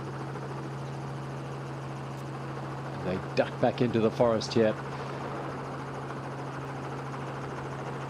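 A helicopter filming the Cape Epic mountain bike race whirs as a steady drone under a commentator's voice, which dominates the middle of the stretch.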